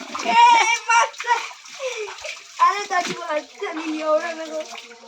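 Water splashed about in a village bathing spot in the Konkan, irregular close splashes and sloshing while children and an adult talk and shout over them.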